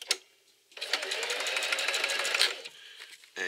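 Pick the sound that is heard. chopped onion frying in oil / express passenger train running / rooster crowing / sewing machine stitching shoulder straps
sewing machine stitching shoulder straps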